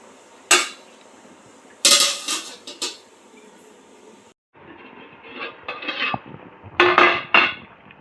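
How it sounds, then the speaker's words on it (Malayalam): A metal lid or plate set over a pot of Kerala-style chicken curry, sharp clanks and scrapes of metal on metal in short bursts, close and loud, with quieter rattling between. "ഇനി നമുക്കിത് നല്ലോണം ഒരു പാത്രം വെച്ച് മൂടി വേവിക്കാം."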